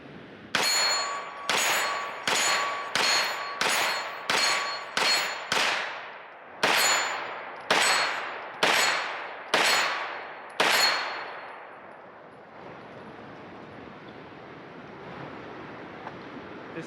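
Rapid gunshots ringing steel targets outdoors on a solo off-road camping trip in the Ozarks, about a dozen sharp metallic clangs in quick succession with long ringing decays, then a quiet outdoor hiss.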